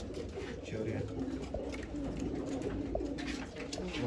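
Old line pigeons kept for sale in Bangalore coo steadily, a dense layer of soft throaty calls over a busy background with a murmur of voices.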